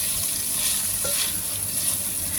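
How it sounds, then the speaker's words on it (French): Rosemary and thyme sauté in a pan with a continuous close hiss and sizzle, a faint stir scraping briefly mid-way. "vous faites bien revenir les herbes pour les faire suer"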